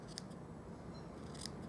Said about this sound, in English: I'm just going to trim off the edges with my scissors